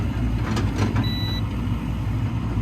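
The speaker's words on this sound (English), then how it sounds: "I put my multimeter into here, make sure it beeps." A single short, high-pitched electronic beep from a multimeter continuity test sounds briefly over a steady low rumble and hum.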